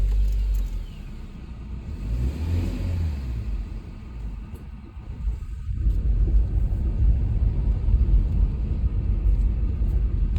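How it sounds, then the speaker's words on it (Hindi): A car is driven slowly into a parking lot, its engine rumbling low and steady with tyre and road noise that swells louder in the second half; no talk is heard. "हम गाड़ी पार्किंग के लिए ले जा रहे हैं"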